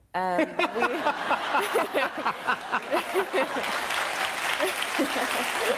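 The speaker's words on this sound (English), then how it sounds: "Give her a round of applause, everyone." Studio audience applauding loudly and steadily throughout, a dense wash of clapping with brief cheers and voices mixed in near the start.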